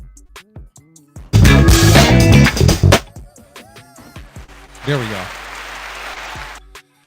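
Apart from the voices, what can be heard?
hand clap sound effect played on radio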